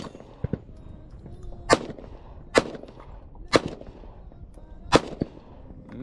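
Sharp gunshots from a Smith & Wesson M&P Shield 2.0 pistol fired outdoors in the desert: four loud cracks at irregular intervals, with a couple of fainter pops between them.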